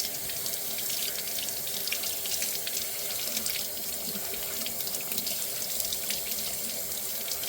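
A drinking straw is scrubbed and rinsed under a running kitchen tap, giving a steady, close hiss of flowing water with no talking.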